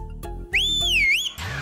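A single loud, close whistle blast, rising and wavering in pitch for under a second, following brief low knocks in a comedy scene.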